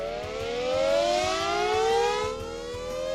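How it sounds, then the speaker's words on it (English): A loud wailing siren rises steadily in pitch over a few seconds, swelling and easing slightly, with a faint rhythmic thudding underneath and no voices. "This is the evacuation siren."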